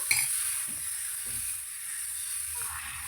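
Uttapam batter cooking on a hot pan gives a steady high sizzle and hiss, with a few soft scraping and clinking touches at the start and at intervals.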